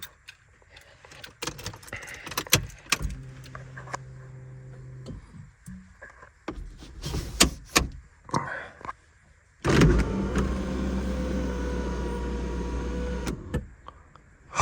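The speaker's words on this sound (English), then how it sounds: "let's see if this fucking sunroof works" A car's power sunroof motor opening, heard inside the cabin as a steady mechanical hum that runs about four seconds, after a shorter earlier motor run and scattered clicks, knocks and rustling.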